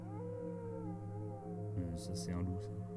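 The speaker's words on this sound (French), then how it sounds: "Ça c'est un loup ça." A wolf gives a long wavering howl with gliding pitch that holds steady, then a second voice or yip joins near the end over a low rumble.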